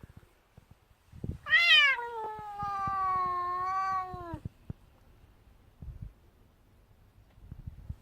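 A cat gives one long, drawn-out meow outdoors in the cold, loud and close, rising and then holding before it fades. Faint soft thumps and rustles sit around it, with no talking.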